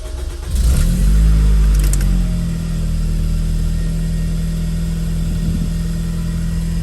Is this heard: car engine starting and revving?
yes